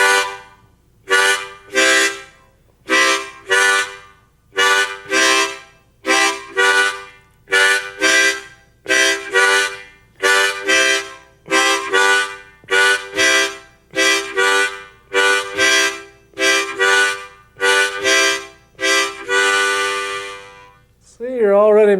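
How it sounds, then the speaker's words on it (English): Harmonica played on holes around 3 and 4, with two draws then two blows on the same holes, repeating as a steady train-like chugging rhythm of short, reedy chords; close and loud, ending with a brief bent note. "just inhale twice. And then exhale twice through the same holes. You can get a rhythm like this."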